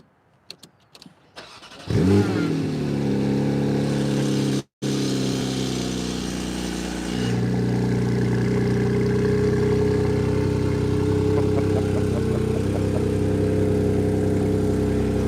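A Porsche 718 Cayman GT4 RS engine cranks over and catches with a loud flare, then settles into a steady, strong idle. Its rumble steps up slightly partway through and carries on evenly with no talking.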